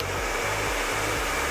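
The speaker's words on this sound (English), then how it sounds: "I'm literally allowing the brush and the dryer to do all the work" A hair dryer blows steadily and loudly at close range while hair is brushed through, a continuous broadband whoosh with no speech.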